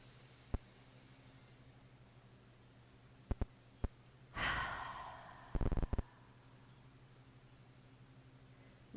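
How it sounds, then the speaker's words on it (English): A deep breath is drawn during a beginner's at-home yoga stretching session: soft, faint airflow swells for a couple of seconds amid quiet room tone, with a few small clicks and light rustles around it. "Inhale, deepest breath yet."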